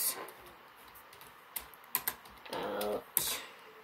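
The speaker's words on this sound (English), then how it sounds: "Sorry if you got bored of me typing here." Keys on a computer keyboard clatter softly in short, uneven bursts, quiet and close, with a few sharper clicks and a brief steadier run of taps near the end.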